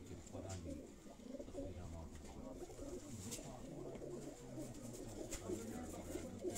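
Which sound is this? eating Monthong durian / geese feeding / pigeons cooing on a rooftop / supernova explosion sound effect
pigeons cooing on a rooftop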